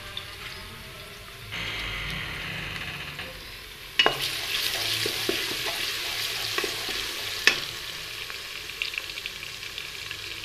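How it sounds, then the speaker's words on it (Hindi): Ginger-garlic paste hits hot oil with golden-brown onions for a mixed vegetable pulao, setting off a steady close sizzle with stirring scrapes and a couple of sharp clinks, no talking. "तो अब मैं इसमें जो है वो अदरक और लहसुन का पेस्ट शामिल कर दूँगी।"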